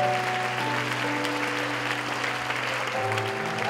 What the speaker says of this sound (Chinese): 要不要掌声给耶稣？